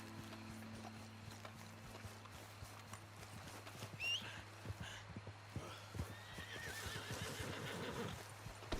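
A horse whinnies once in the video game Red Dead Redemption 2, then hooves clip-clop steadily over a low ambient drone, with another whinny-like call near the end.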